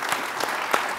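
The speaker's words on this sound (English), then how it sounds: "Could I get a round of applause for the panelists as I introduce them, please?" Short burst of audience applause at a financial forum debate, steady patter of clapping from a seated hall crowd, moderately faint and heard alone.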